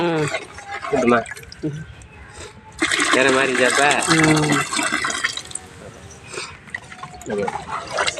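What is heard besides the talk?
water poured into cooking pot for chicken biryani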